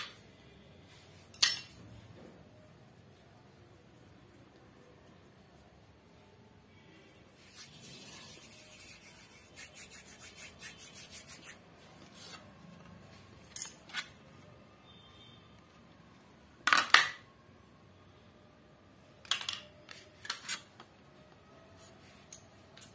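A thin knife cuts with sparse, faint scrapes and sharp clicks separated by long quiet gaps in a still room.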